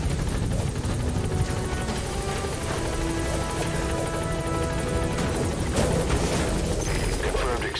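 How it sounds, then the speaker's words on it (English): A support helicopter arrives at a landing zone in Metal Gear Solid V: The Phantom Pain, its steady rotor chop loud and continuous throughout, with scattered booms and gunfire mixed in and a voice speaking over it. "Support helicopter has arrived."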